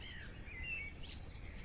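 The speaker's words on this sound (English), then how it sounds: "you can hear the birds singing" Birdsong from a downloaded nature clip: several birds chirping and trilling in short overlapping phrases, moderately close, over a steady low background hiss, no voices.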